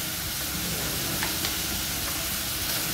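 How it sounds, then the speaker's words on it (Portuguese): Chicken stroganoff with seasonings being stirred in a hot pan, a steady close sizzle and frying hiss with soft scraping of the spoon, continuous and alone. "Mexemos um pouquinho"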